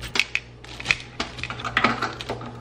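Chicken is stirred into soup in a crock pot, with irregular clinks and scrapes of a utensil against the pot and some soft wet shuffling, close and moderately loud.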